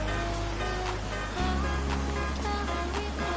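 A stream flows along the Uvas Canyon trail with a continuous, even rush of water and a low background drone that shifts partway through.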